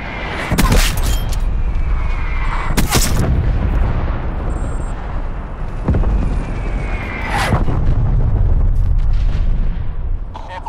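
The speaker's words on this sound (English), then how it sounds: "Hostile artillery targeting active." Loud artillery strikes and explosions in a Call of Duty Demolition match, several heavy booms bursting at irregular intervals over a dense, rumbling battlefield bed with game sounds.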